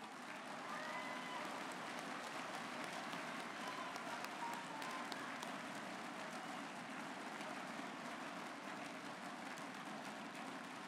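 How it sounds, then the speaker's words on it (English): Audience applause at the national MathCounts competition countdown round, a dense, even wash of clapping that continues steadily for about eleven seconds at a fairly distant, low level. "One more round of applause."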